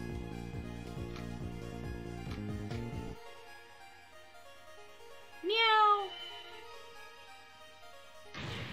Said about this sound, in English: Oh, a kitten!